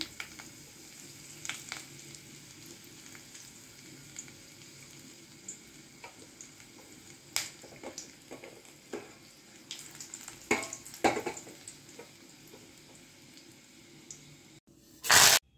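Dry red chillies fry in hot oil, sizzling and crackling softly, with scattered pops and spits throughout and a sharper burst near the end.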